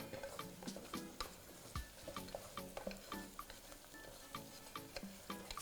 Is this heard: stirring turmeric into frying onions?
yes